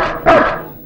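An Alsatian dog gives a single sharp, loud bark up close, which trails off quickly into quiet.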